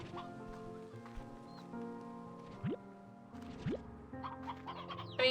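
Hens in the video game Slime Rancher 2 cluck in short scattered bursts over a soft melodic game soundtrack, with a few quick swooping effects, fairly quiet overall.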